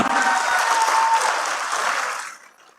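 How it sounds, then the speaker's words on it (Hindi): A crowd at a BJP Vijay Sankalp political rally in Ellenabad breaks into dense, loud applause that holds steady for about two seconds and then fades out quickly. "एक बार जोरदार तालियां।"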